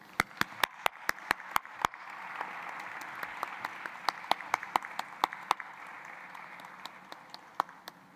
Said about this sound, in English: if we could all just give them a huge round of applause